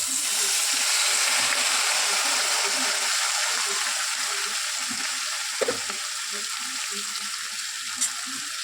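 Sea fish tipped into hot oil in a wok, giving a steady, fairly loud broadband sizzle that holds for the whole stretch, with a couple of small clinks and faint kitchen sounds under the frying.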